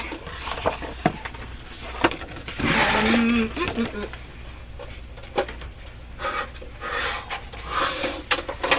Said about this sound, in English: Having trouble putting my bin back to where it's supposed to be.